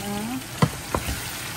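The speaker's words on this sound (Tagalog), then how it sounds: "Gigisa ko siya." Pork, kadyos beans and jackfruit sautéing in a pan, a close, soft sizzle with a couple of quick stirring scrapes.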